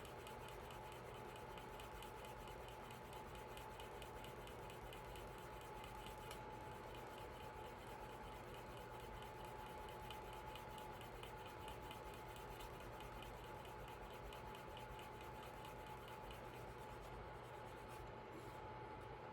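Steady, continuous rubbing of a leather wallet edge being burnished by hand, a dense friction hiss running evenly throughout with a constant faint tone beneath, close and moderately quiet, no talking.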